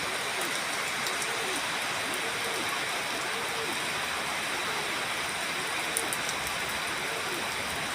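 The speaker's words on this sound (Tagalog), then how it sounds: "Medyo umina na yung ulan" Easing rain falls steadily in a continuous even hiss, with soft, repeated, low rising-and-falling calls heard faintly beneath it.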